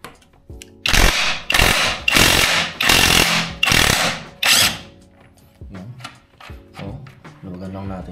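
A power tool, likely an impact wrench, loosens a nut on the chain adjuster of an Aprilia RS660 motorcycle, with five loud, harsh rattling bursts in a row, followed by softer clicks and a voice talking.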